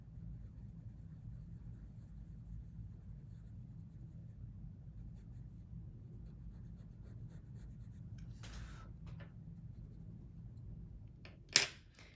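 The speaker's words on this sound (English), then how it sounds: "This is the 180 Fabercastel pastel pencil." A Faber-Castell 180 pastel pencil drawing on paper makes a faint, steady scratching close by, with a few brief sharper rustles near the end.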